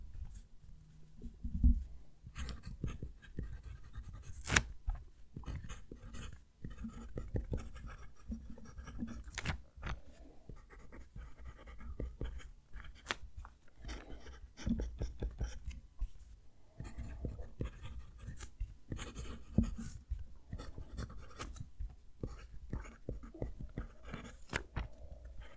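PenBBS 308 fountain pen nib writing on paper, a faint close scratchy scribble of short strokes and taps repeating steadily throughout, quiet and alone.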